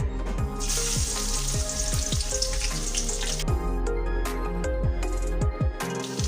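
Loud, steady sizzling of finely chopped garlic frying in hot oil, close by, with scraping stir sounds at intervals and no talking.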